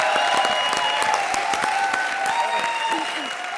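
Studio audience applause on a Hindi television comedy show, a dense, steady wash of clapping from a crowd that stays loud throughout and eases slightly at the end, with faint voices mixed in.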